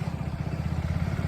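A motorcycle engine idles nearby with a steady, low, pulsing throb, unchanging over a brief moment.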